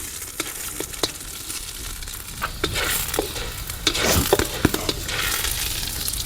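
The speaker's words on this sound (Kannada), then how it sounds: "ಒಂದು ಸ್ವಲ್ಪ ರೋಸ್ಟ್ ಮಾಡೋಣ ಉದ್ದಿನಬೇಳೆ ಕಡಲೆಬೇಳೆ." Urad dal and chana dal roast in a pan for lemon rice, with a steady soft sizzle broken by repeated scraping stirs of a spoon, close and without speech.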